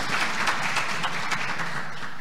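A congregation at a diocesan intercession and preaching congress applauds, a dense, steady wash of clapping from a large crowd with no voices over it.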